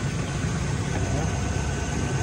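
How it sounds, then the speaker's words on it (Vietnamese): A 2011 Chevrolet Cruze engine idles smoothly with a steady, even low hum, heard close and constant throughout. "Cái máy nổ cực kỳ êm."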